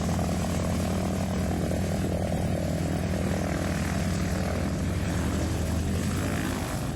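Steady radial-engine propeller drone with a low, throbbing hum, loud and continuous throughout, as a small trainer plane comes in to land nearby at EAA AirVenture 2023.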